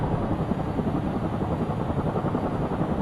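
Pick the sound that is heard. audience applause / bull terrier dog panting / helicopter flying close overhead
helicopter flying close overhead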